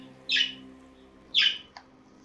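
Birds squawk outside in two sharp, loud bursts about a second apart, followed by a brief chirp, set against a low steady hum.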